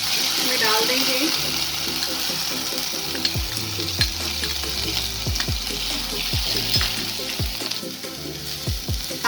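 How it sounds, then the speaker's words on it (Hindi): Ground green pea, onion and garlic paste frying over medium flame in a pan with roasted cumin and fenugreek, giving a steady close sizzle broken by regular scraping stirs of a spoon. "अब हम इसे 5 से 7 मिनट तक मीडियम फ्लेम पे चलाते हुए भूनेंगे।"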